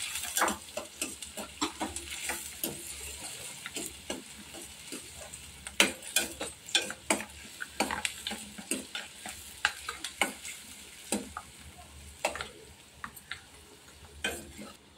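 Something frying lightly in a pan until its colour changes, made while cooking homemade pani puri, heard as a soft steady sizzle broken by frequent sharp scrapes and clinks of a spoon stirring against the pan.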